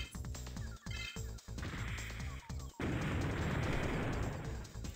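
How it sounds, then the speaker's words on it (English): A game explosion effect from a Digimon World 3 battle: a series of crunching hits and bursts, then a sustained crackling, noisy blast that fills the last two seconds. "That explosion effect does not look good."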